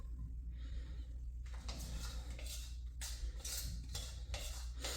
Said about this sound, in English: you might need a spoon again to scrape the bowl